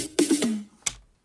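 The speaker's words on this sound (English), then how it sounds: "Just a little snare break I got off Splice." A short snare drum fill sample: three quick close hits ringing briefly, then a single crisp snare crack after a short pause, dry and alone.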